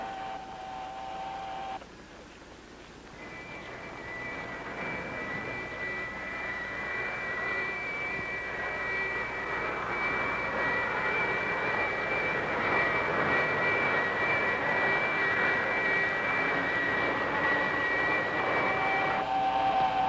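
Spacecraft engine thrust in the 1965 film Attack From Space roars as a loud, sustained aircraft-like drone with a high whine. It swells after a brief dip near the start and holds steady without talk.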